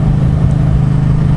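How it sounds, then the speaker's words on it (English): A Yamaha MT-07 motorcycle's 270-degree-crank twin engine runs loud and close with a deep, steady, throbbing rumble for a moment, no voices over it. "this one sounds amazing with a 270-degree crank"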